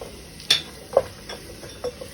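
Shallots and green chillies being sautéed in a pan for an egg biryani, with quiet oil sizzle beneath a few sharp spoon scrapes and taps at irregular intervals, nobody speaking.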